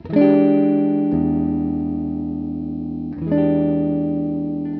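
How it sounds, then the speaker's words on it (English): A clean Harmony Rebel electric guitar on the middle pickup plays a Hendrix chord, strummed and left to ring, then struck again about three seconds later, sustaining smoothly with no distortion. "it sounds like this, once again, Hendrix chord."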